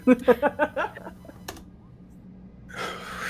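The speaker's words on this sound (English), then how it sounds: "Sometimes it sounds like you just slap the keyboard after typing." A computer keyboard clatters in a quick burst of about five even keystrokes, then one sharper isolated hit after a pause, with a soft breathy rush closing the moment.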